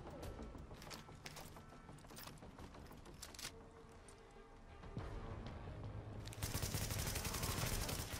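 Rapid video-game gunfire from The Division rattles in dense, overlapping bursts, steady and close, growing louder and more intense toward the end.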